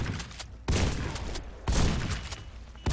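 Heavy gunfire from the Warface online shooter, with loud broadband bursts of rapid shots that repeat in three dense volleys, each cutting in sharply and then tailing off, with no voices.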